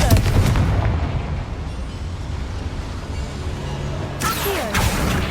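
A Confringo blasting spell in Hogwarts Legacy goes off inside a small mine with a loud booming burst at the start, fades into a low rumbling tail, then a second sharp crack and thud follow near the end.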